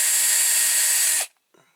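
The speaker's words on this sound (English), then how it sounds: "So I've got my little wire brush on the drill to go in" A wire brush spinning on a drill scrubs rust off a Corgi Toys Fiat 1800 toy car, a loud steady whirring grind that cuts off abruptly, then a faint brief rub.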